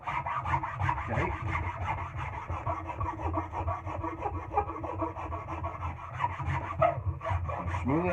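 Steady rasping of a blade shaving and smoothing wood from a racing axe handle to fit it snugly into the head, continuous close strokes with no talk.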